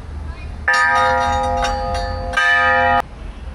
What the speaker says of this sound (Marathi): मित्रांनो ती घंटा किंवा आवाज वगैरे.